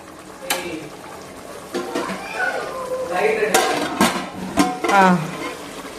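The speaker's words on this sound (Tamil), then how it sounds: "கொஞ்சம் வேகட்டும். மூடி போட்டுருங்க." A metal lid is set onto a pot of vegetable biryani cooking on the stove, giving a few sharp clanks and scrapes with people talking throughout.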